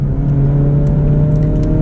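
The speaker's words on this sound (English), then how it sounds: "It's going to rev match for us." Honda Civic Type R engine blipping to rev-match on a downshift, a loud, close, steady engine hum with a brief lift in pitch and no talking.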